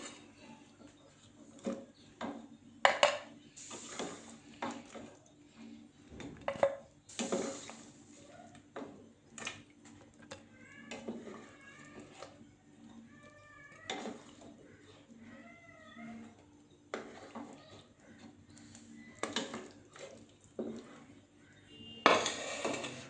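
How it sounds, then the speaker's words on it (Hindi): Chicken pieces for a hot and sour soup being lifted out of a pot in a home kitchen, with irregular metallic clinks and scrapes of utensil against cookware, separated by quiet pauses. "अब हम चिकन को इसकी बोटियां निकाल लेंगे।"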